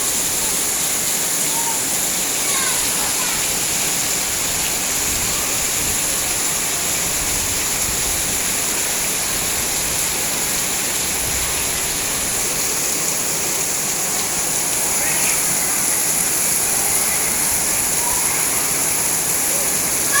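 Steady rain pours down over a school in Aceh, a dense, even hiss that continues without a break for the whole stretch, loud and close, with no voices over it.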